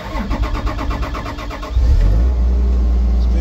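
A Bomag roller's engine idles unevenly, then revs up and holds at a louder, steady roar close by.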